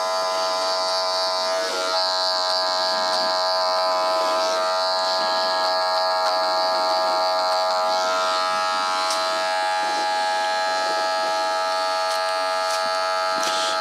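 An electric hair clipper buzzes steadily during a fade haircut on South East Asian hair, a constant close mechanical hum with slight shifts in pitch as it moves, no speech.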